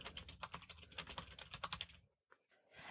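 Rapid typing of an episode title on a computer keyboard: a quick, steady run of light, close keystrokes for about two seconds, a brief pause, then a few more taps.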